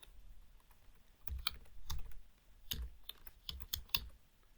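Typing on a computer keyboard while entering an Excel nested IF formula: sparse, fairly close key clicks in short irregular clusters, quiet between strokes and no talking.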